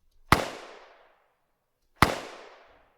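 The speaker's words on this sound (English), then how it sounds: "I'm going to play this gunshot we have for you here" Two sharp, loud gunshots about two seconds apart, each with a quick crack and a long fading echo tail, heard alone with no talk.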